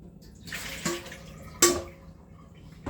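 Water sloshing and splashing as a container is lifted out of a cooling water bath in a home kitchen, with two distinct splashy surges and soft trickling between, close and fairly quiet.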